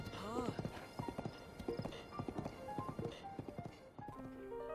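Horse hooves clip-clop in a quick, even rhythm while riding in The Legend of Zelda: Breath of the Wild, crisp and moderately loud alongside a whinny and light musical tones.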